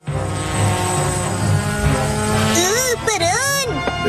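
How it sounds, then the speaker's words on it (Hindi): Cartoon drones flying, a steady high-pitched buzzing whir that holds throughout, then wobbling, swooping tones near the end as they move about, with talk over it. "इन्हें ड्रोन कहते हैं"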